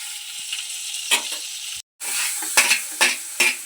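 Onion and garlic frying in hot oil in a pan for butter Maggi noodles, a steady close sizzle broken by a brief drop to silence, then louder crackling bursts and stirring scrapes, with no voices.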